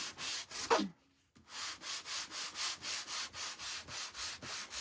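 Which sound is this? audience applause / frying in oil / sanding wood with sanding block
sanding wood with sanding block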